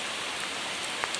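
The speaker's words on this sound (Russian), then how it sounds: "теперь получается, что я прячу их не столько от солнца, сколько от дождя" Rain falling outdoors on potted aeoniums, a steady dense hiss of drops with a few sharper individual taps, fairly loud and continuous, no voices.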